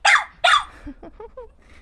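A dog gives two sharp close barks, then trails off into short low grumbles and whiny vocal noises.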